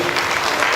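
A short burst of steady audience clapping at the opening session of a national meeting, loud and close.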